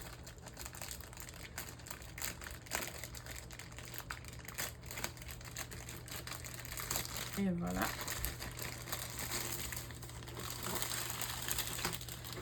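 Plastic wrapping from a Diamond Art Club diamond painting kit crinkles and rustles as it is opened, steady close handling noise with a sharp burst midway, under someone talking.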